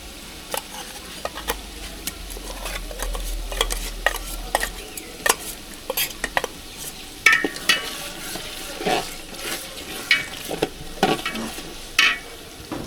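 Cumin and coriander paste frying with ginger and garlic in a pan, a steady sizzle broken by repeated scraping strokes of a spoon stirring, close and fairly loud.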